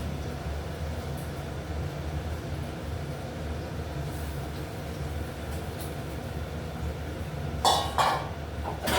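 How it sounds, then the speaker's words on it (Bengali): Rohu fish pieces going into a pan of spiced potato gravy with black cumin: a steady low bubbling simmer close by, with a couple of sharp clinks of utensils against the pan near the end and no talk. "তখন আমি এটা ছেড়ে দিচ্ছি, মাছটা ছেড়ে দিচ্ছি"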